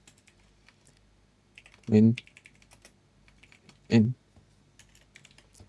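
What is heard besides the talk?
typing code on a computer keyboard in Roblox Studio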